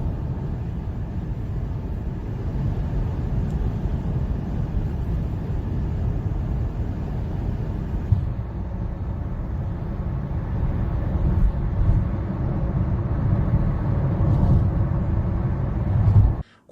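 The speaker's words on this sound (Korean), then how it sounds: "시속 80에서 100km 구간에서는 노면 소음이나 풍절음이 두 차량 모두 큰 차이가 없습니다" Steady road and wind noise inside a Hyundai Kona cruising at 80 to 100 km/h, a constant low cabin rumble and hiss that stays even throughout with no talking.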